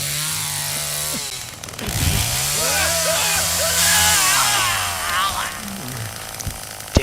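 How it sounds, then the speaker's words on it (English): A chainsaw in the Texas Chainsaw Massacre video game sputters and then revs up several times, rising and falling in pitch, loud and close. "First thing, you want to get the chainsaw started up."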